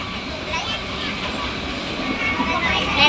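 A passenger train rolls along, giving a steady rumbling rail noise with people talking over it, growing a bit louder near the end.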